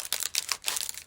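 Glassine envelopes crinkle and rustle as they are handled, a brief run of crisp, close papery crackles in quick bursts with no talking.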